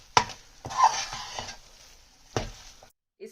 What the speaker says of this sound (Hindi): बाद हम इसको कोकोनट को दूध में अच्छे से मिक्स करेंगे